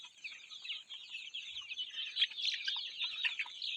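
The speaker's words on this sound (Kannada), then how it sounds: "ನೋಡಿ ಅದೇ ನಮ್ಮ ಮನೆ ಹುಂಜಗಳು ಬಂದ ತಕ್ಷಣ ಸಿಗ್ನಲ್ ಕೊಟ್ಬಿಡ್ತವೆ" Domestic roosters on a small low-cost farm keep up a continuous, fairly quiet clucking and chattering, several birds overlapping without pause.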